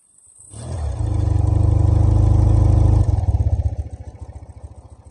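A BMW R80GS Basic flat-twin motorcycle engine cranks and catches, rising into a loud, steady near rumble, then settles into a lumpy, pulsing idle with a distinct rhythmic thump, alone without talk.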